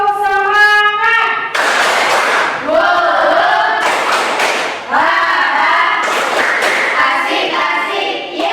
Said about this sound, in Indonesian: Ayo bikinnya ya, tepuk semangat